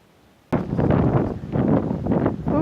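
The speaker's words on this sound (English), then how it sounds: "that's what you call a cold north wind coming in" Cold north wind buffeting a camera microphone on a hiking trail, starting abruptly and then roaring in loud, uneven gusts that fill the rest of the clip.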